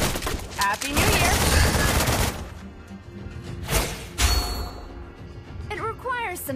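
Gunfire from the Bullet Shower skill in the mobile game Mobile Legends: Bang Bang, a dense burst of rapid shots and impacts followed by sparser thuds and blasts, mixed with game voice effects.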